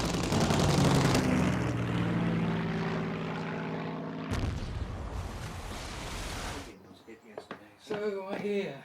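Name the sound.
Spitfire and Hurricane fighter aircraft dogfighting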